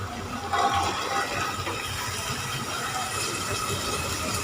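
Boiled chickpeas tipped into a pan of cooked, oil-separated masala for Kerala-style kadala roast, giving a steady wet sizzling rush with a brief louder splash near the start, close and continuous with no talking.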